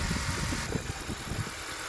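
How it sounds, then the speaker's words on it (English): A 2013 Honda Accord engine idles with a low, even, moderately faint rumble, steady and unbroken for the whole short stretch, with no talking. "we'll let the engine run for some time and then cut off the engine"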